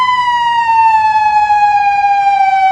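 Police vehicle siren, a loud close steady electronic tone held on one note and slowly falling in pitch, heard alone without talk.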